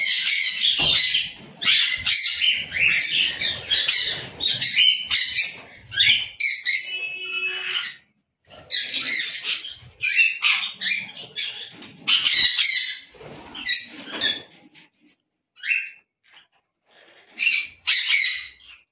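Budgerigars in a breeding loft chirp and squawk almost nonstop, with many close birds calling over one another in dense bursts and only brief pauses.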